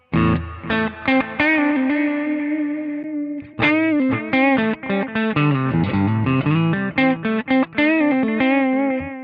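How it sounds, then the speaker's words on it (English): Electric guitar through a Valeton GP-50 delay effect playing sustained notes and quick phrases, the delay trailing and smearing each note into the next, loud and alone. "delays work as well. So some crazy delay sounds"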